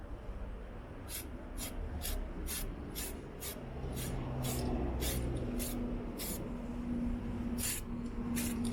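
Repeated short bursts of aerosol spray paint hissing onto Lexus LS460 brake calipers mounted on a Toyota Alphard, about a dozen evenly spaced puffs over steady background noise, close and moderately loud.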